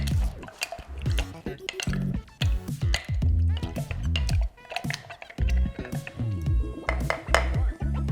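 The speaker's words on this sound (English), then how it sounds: "Now muddle the ingredients" Blackberries, lime juice and simple syrup being muddled in a cocktail shaker or glass, giving repeated soft squishing thuds and light glassy clinks at close range, with some talking over it.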